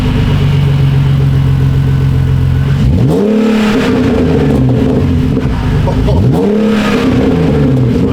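A BMW E46 330Ci fitted with an M3 exhaust fires up for the first time, idling loud and close before two sharp revs that climb and fall back, with pops and burbles on the overrun and voices talking over it.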